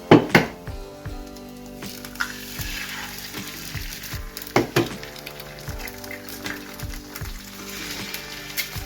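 Eggs frying in leftover bacon grease on a pan in a workshop, with a steady sizzle under clattering pan and utensil knocks and a few sharp taps, with no talking.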